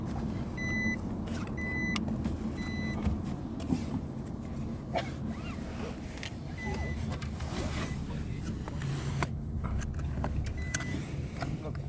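Steady engine and road drone inside a moving car held in third gear above 70 km/h, loud and continuous throughout, with a few faint clicks and short electronic tones over it.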